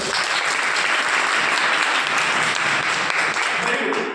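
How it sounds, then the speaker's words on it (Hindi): Students in a college hall clap for themselves, a loud, dense burst of many hands sustained evenly for a few seconds before trailing off. "अपने लिए ताली बजाओ ना बढ़िया"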